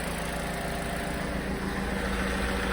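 A Vauxhall Corsa engine idling while it warms up, giving a steady, close, low mechanical drone with no change in pace for the whole stretch.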